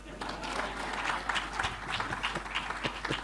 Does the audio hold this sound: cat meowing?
no